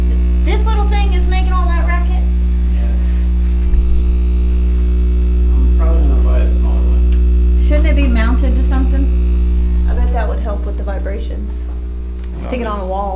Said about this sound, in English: This little thing is making all that racket.